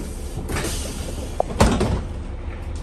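A door on a 1997 Gillig Phantom bus opens. Soft rustling and low rumble come first, then a sharp mechanical thunk and a brief whoosh as the door moves, all heard close up.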